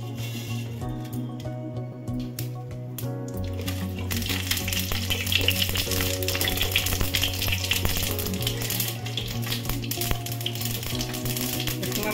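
Mustard seeds hit hot oil in a kadai, setting off a bright, crackling sizzle that grows busier midway, with music playing underneath.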